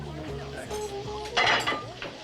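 Dishes and cutlery clink and clatter in a busy kitchen, with a sharper rattle of plates midway and faint sizzling underneath.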